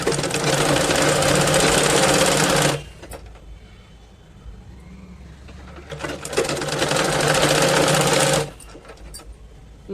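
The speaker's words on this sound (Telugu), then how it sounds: "ఒక ½ ఇంచ్ ఖర్చుతో ఇలాగా లాక్కుండా ఇలాగా కుట్టేస్తాం" A sewing machine stitches baby palazzo pant fabric in two long, loud, close bursts of rapid whirring, with a quieter pause between them while no one speaks.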